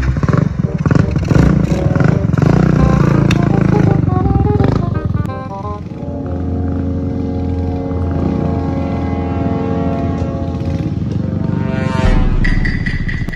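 Habal-habal motorcycle engine running loudly and continuously nearby, a rough droning rumble that shifts pitch as it revs, with voices partly over it.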